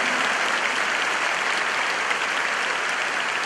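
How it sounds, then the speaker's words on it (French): Dense, sustained applause from a church congregation praising God, a continuous wash of clapping at even loudness with no speech over it. "Un grand applaudissement pour ce Dieu vivant"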